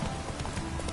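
Roach, a horse in The Witcher 3, gallops in a steady clip-clop of hooves that fills the short moment, loud and close with no talk over it.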